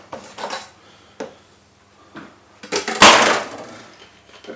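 Metal bread pans clatter and knock against a counter as canola oil is added to grease them, a few sharp clanks spaced apart followed by a louder burst of scraping and rattling.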